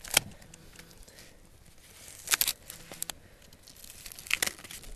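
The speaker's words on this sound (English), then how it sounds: "So I'm going to open this package up." A plastic package around a thick London broil steak being opened, with sharp crinkling and tearing bursts at irregular moments, set against a quieter rustling background.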